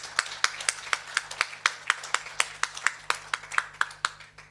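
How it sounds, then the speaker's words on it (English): Clapping after a presentation at a conference on African food systems, a thin run of distinct, fairly regular claps from a few hands, moderately close and alone. "Applause."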